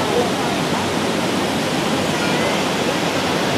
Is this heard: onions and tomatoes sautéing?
no